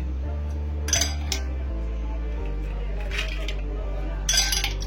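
Ice cubes dropping into a glass, a few bright clinks in separate bursts over a steady low hum.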